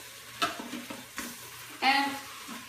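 A spoon stirs Thai beef stew in a slow cooker, a few distinct scraping, sizzling strokes with brief pauses between them, close and clear.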